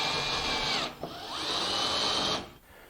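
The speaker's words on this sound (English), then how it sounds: "1/2 inch drill motor, that keeps the RPM on the drill bit low enough where I'm not going to burn up the drill as we drill through this metal" A 1/2 inch drill motor bores through metal at low RPM, making a whining grind that cuts out near the one-second mark. It picks up again and runs steadily before winding down.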